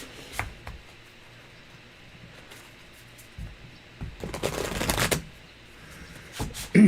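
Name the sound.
shuffling tarot cards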